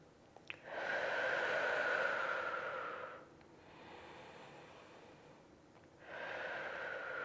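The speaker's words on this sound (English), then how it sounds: "We're taking 2 nice deep breaths in this hip opener." Deep breathing during a Pilates hip opener: a long, audible exhale lasting a couple of seconds, a quieter pause, then another breath begins. The breaths are close and soft, with no talking.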